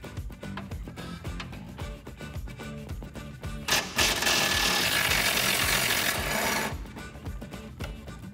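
A ratchet clicks rapidly and steadily while loosening a nut on a tow hook bolt through the frame rail of a 2019 Chevrolet Silverado 1500, close and loud, with a brief grinding whir midway.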